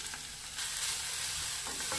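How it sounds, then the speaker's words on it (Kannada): Grated coconut frying with green chilies and curry leaves in a pan for set dosa saagu and chutney, a close, steady sizzle with stirring scrapes and no voices. "ಈಗ ಇದಕ್ಕೆ ಕಾಯಿ ತುರಿನ ಹಾಕ್ಕೊಂಡು ಫ್ರೈ ಮಾಡ್ಕೋತೀನಿ"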